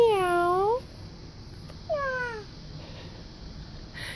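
A voice imitates a cat's meow for a baby, two drawn-out, falling meows close up, the first longer and louder, the second softer, with a quiet room in between.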